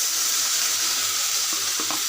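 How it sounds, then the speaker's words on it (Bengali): Dried fish sizzles in a pan as spice paste is added, a loud, dense, steady hiss with a few brief stirring knocks near the end. "আমার শুটকিটা ভাজা হয়ে গিয়েছে, আর এখন আমি সব মশলাটা দিয়ে দিচ্ছি।"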